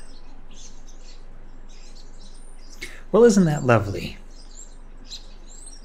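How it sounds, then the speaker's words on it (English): Peaceful ambient chirping of small birds placed in an Unreal Engine 5.1 water scene, a brief burst of twittering calls rising over a quiet background, with a voice speaking around it. "we're going to need to just drop a nice little ambient sound into the scene now"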